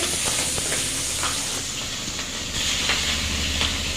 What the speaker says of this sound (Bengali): প্রচণ্ড ফাটছে প্রচণ্ড ফেলে দেওয়ার সঙ্গে সঙ্গে যে চিংড়ি ভাজছে